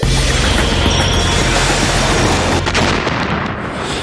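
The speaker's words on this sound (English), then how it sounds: "the SSDS chooses the best placed launcher from the entire fleet and lets it rip" A warship's missile launcher fires with a loud, sustained roaring blast that fills the moment, rumbling heavily before tailing off toward the end, no voices.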